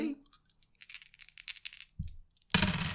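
Dice rolled for a tabletop role-playing game clatter across a surface in a scatter of small, light taps, ending in a louder rattling tumble near the end, with no talking over it.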